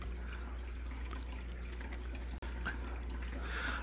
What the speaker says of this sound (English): I am going to add 1 liter of water along with 5 ml of each nutrition from A and